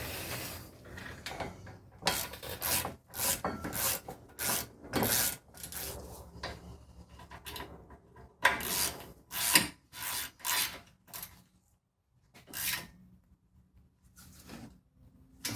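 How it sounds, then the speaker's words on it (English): A ratchet works a brake caliper bolt on a 2014–2018 Jeep Cherokee Trailhawk, giving bursts of close, rasping clicks in uneven groups with brief pauses between strokes. "Grab your ratchet."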